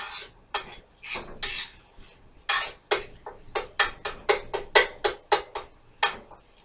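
Sausage browning in a pan for biscuits and gravy as a utensil scrapes and knocks against the pan in sharp, uneven strokes that grow faster and more regular, close and fairly loud, with no talk.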